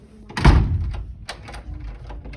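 A door in Fanning Hall, a Connecticut College building, is locked and then shaken: a loud close thunk, followed by a few lighter rattling knocks, with no talking.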